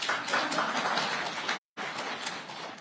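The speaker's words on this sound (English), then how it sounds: "I thought you would clap." An audience at a presidential media briefing in Kenya claps in an even, moderately loud patter that cuts out for a split second, then carries on.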